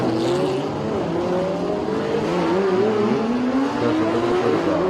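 Touring race car at the Bangsaen Grand Prix accelerating hard out of a hairpin under power oversteer, its engine note rising steadily through the gears, loud and close.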